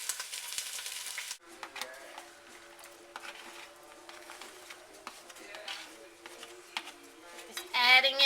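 Cajun trinity vegetables sauté in a pan, a soft, steady sizzle with light stirring scrapes and clinks, fairly quiet and close.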